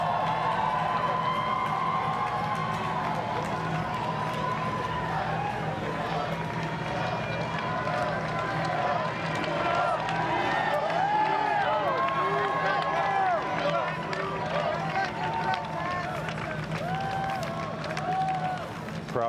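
A large crowd cheers, shouts and applauds as Prime Minister Trudeau arrives at his swearing-in ceremony, a steady dense roar with a commentator talking over it.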